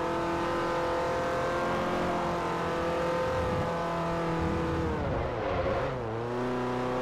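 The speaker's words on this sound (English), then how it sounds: "I love how this engine sounds." A race car engine in the Forza Motorsport 4 video game, Class D, drones at steady high revs throughout, loud and continuous, with a quick dip and rise in pitch near the end as it shifts or lifts off.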